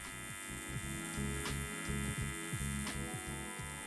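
A TIG welding arc crackles with a steady electric buzz and hum while filler rod is dabbed into the weld puddle at home, giving a close, even drone with soft rhythmic pulses throughout.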